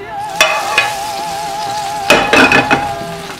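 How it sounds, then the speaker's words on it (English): Soy crumbles stirred into soup in a pot, with a spoon clinking and scraping against the metal in a few sharp knocks over a low steady bubbling tone, close and clear, no talking. "we're going to add it to our soup. Give that a little stir."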